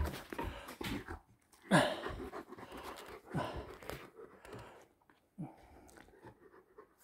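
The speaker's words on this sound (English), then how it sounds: "Big dog." A big dog pants and sniffs up close in uneven bursts, with snuffling breaths, a few sharp clicks and brief pauses between rounds of panting.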